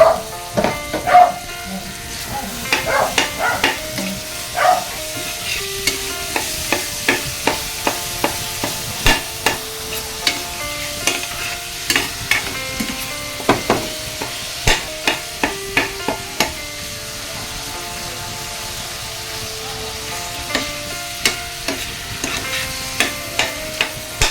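Ground pork sizzling and frying in a pan for spaghetti sauce, a steady hiss broken by frequent sharp scraping and clacking strokes of a stirring utensil.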